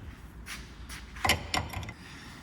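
A spanner tightening a fitting clamped in a vise in a farm workshop, a few quiet metallic clicks and two sharper ratcheting scrapes close by, with no talking.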